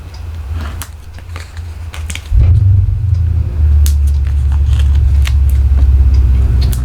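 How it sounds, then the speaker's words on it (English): A car motor revs outside in a garage where cars are being worked on, a steady low rumble that surges louder partway through and holds there, heard from indoors with no talk over it. "If you just heard that motor revving"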